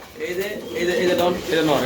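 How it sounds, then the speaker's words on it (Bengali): Maltese pigeons cooing in a loft, soft low throaty coos close by, mixed with someone talking throughout. "মাল্টিস কবুতর মাশাআল্লাহ খুবই চমৎকার"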